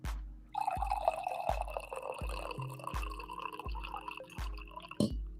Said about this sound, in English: Did you miss the coffee pour?